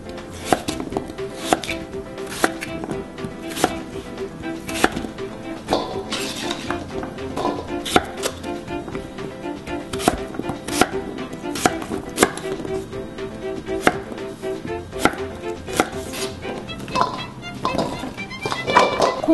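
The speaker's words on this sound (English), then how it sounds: "Let's cut this into cubes." A knife chops radish into cubes on a board with a steady run of sharp, evenly spaced knocks, close and clear throughout, with occasional clinks.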